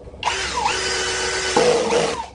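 A Ronix 20V 8905K cordless hammer drill runs at speed 1 driving screws, a steady whirring motor hum with a pitch shift partway through, close and continuous for about two seconds with no talking.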